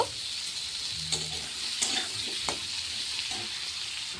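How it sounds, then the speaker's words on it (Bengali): Potatoes and onions fry in a pan with a steady close sizzle, broken by a few sharp scraping stirs. "এবার পেঁয়াজ আর আলুর সাথে একই সাথে আমি এগুলোকে হালকা করে লাল লাল করে ভেজে নেব।"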